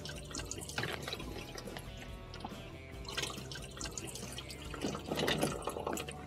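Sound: water draining out of ice maker pan

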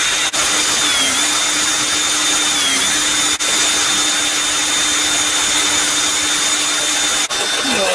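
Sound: power drill drilling stainless steel

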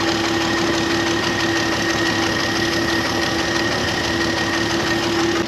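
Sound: small engine running with a fuel pump and carburetor

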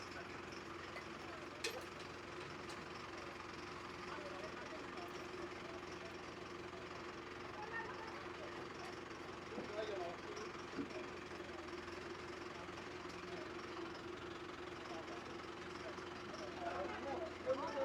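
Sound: tractor engine running during flood rescue

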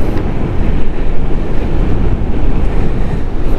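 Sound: strong wind on a motorcycle rider's helmet microphone

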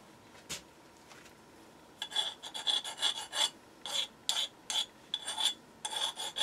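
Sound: deburring a machined steam engine column part

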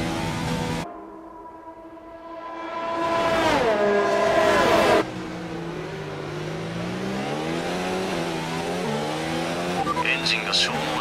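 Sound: race car engine in video game F1 2019

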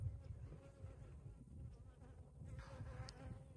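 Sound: honeybees buzzing around a beehive being moved

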